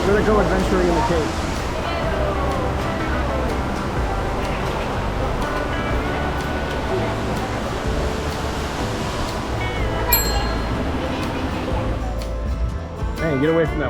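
A waterfall at Old Man's Cave gives a steady broadband rush, loud and close, with voices talking over it throughout.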